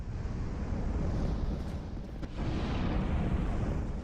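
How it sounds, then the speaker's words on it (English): A deep rumbling blast in Dark Souls 2 at Brume Tower, a loud, sustained low roar that briefly dips near the middle before swelling back, with no talk over it. "We were lucky enough that explosion took out the enemy on the other side of the fence"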